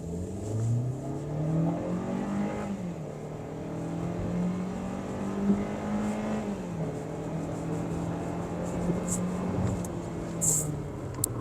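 A Hyundai Elantra GLS accelerates hard from a standing launch, its engine note climbing steadily through the gears with audible shift dips, close and continuous for the whole run, with faint voices underneath.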